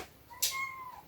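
A pet cat lets out a single short meow indoors, a brief tonal call with a sharp onset, heard alone in a quiet room.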